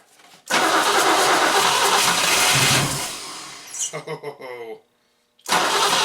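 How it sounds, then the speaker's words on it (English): A 1964 Oldsmobile 98 luxury sedan engine cranks over loudly for several seconds, then sputters unevenly, falls silent and cranks again; a voice briefly exclaims. "I'm going to see if this cranks over now."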